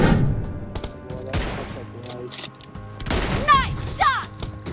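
Gunfire in the mobile battle-royale game PUBG Mobile, an M24 rifle among the weapons: several sharp shots with a couple of louder bursts, mixed with in-game effects and chirping tones toward the end, no speech.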